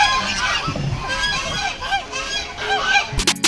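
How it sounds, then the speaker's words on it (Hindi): Waterfowl at the Banganga tank in Mumbai honk and quack nearby in a noisy, overlapping chorus. A sharp clatter comes at the very end. "यहाँ पे आपको कई सारे बतख देखने मिलेंगे"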